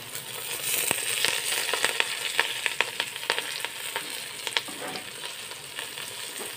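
Fish frying on a banana leaf in a hot pan as pieces are turned over: a constant crackling sizzle with sharp pops and spits scattered through, close and fairly quiet, with no voices.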